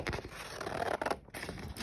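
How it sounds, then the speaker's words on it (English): Scissors cut out a paper ghost shape for a Halloween craft, a close, continuous rasping snip with a short pause before cutting resumes. "So I'm just gonna carefully line up my scissors"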